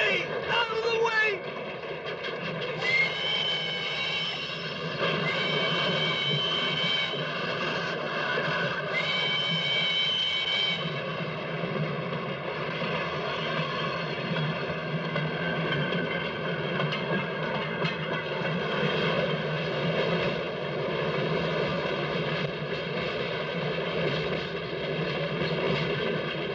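A big train rolls by close behind, producing a sustained loud rumble and clatter with steady metallic tones, and voices are heard briefly near the start.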